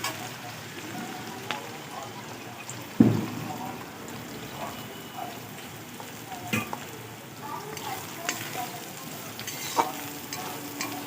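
Chopped beans and carrots frying with onion in a pan for chow mein, a constant sizzle broken by sharp scraping stirs, with someone talking over it.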